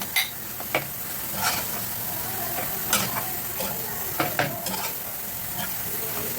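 Leftover squid is stirred into sotanghon frying in a pan, giving a constant soft sizzle broken by irregular scraping and tapping of a utensil against the cookware, with no talking.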